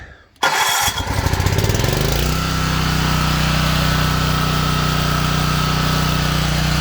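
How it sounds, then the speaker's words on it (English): A home generator fires up with its electric start: a short cranking burst, then the engine catches and quickly settles into a loud, steady, close running drone that continues throughout. "So I'm going to hit the electric start, and it's going to get really loud."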